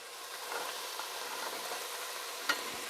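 Chopped celery sizzling in a soup pot with onion, a steady broadband frying hiss throughout, with a sharp clink of a utensil near the end.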